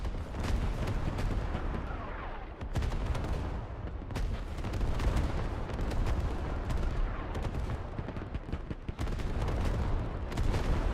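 Airstrike explosions in the video game Squad on an airfield battle map, a dense continuous barrage of booms and gunfire cracks, loud and unrelenting throughout with no voices.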